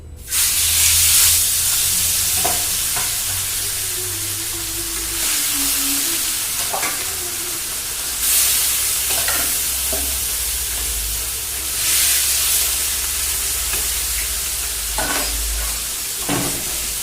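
Four fish fry in hot oil in a home kitchen, giving a loud, steady sizzle and hiss with occasional stirring, heard close and alone without talk.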